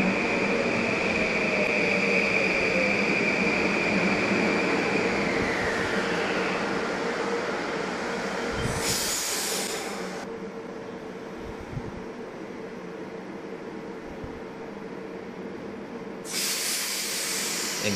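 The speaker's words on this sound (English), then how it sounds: "It's a Metro North to New Haven." A Metro North train to New Haven rolling past at West Haven station, a long steady rumble and rail hiss that gradually eases, broken by two bursts of sharp airy hissing.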